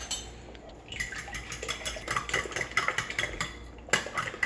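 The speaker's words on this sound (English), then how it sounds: "I'm just going to add a little bit of milk to it, not too much, and then I'm going to whisk them together." Eggs and milk being whisked in a bowl, a dozen eggs at once for breakfast burritos: quick, uneven clinks and scrapes of a whisk against the bowl, moderately close, picking up pace and growing busier after the first second, with no talking.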